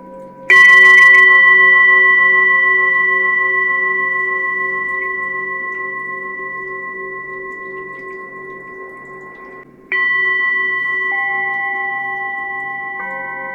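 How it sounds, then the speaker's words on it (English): An electronic Tibetan singing bowl by Quietbliss chimes with clear sustained tones, struck once and ringing long and slowly fading, then struck again near the end for a second bright, layered chime over a faint hiss. "So this one we've got some extra chiming going on."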